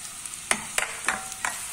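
Snake gourd pieces tipped into frying onions in a pan, giving a soft continuous sizzle with four sharp scraping stirs spaced evenly over a couple of seconds, close by and without talk.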